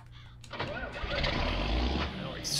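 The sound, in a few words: old tractor engine starting up in Farming Simulator 19 video game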